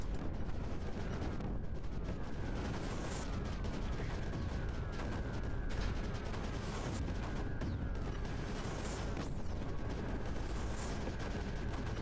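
Continuous barrage of mortar and cannon fire from the strategy game Creeper World 4, dense overlapping booms and crackles forming a steady roar with no pauses, loud and unbroken throughout.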